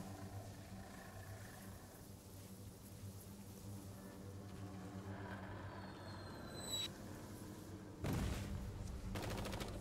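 Gunfire in the Blair Witch video game, with a loud burst of shots breaking in near the end over a low rumbling engine-like drone and scattered faint background noise.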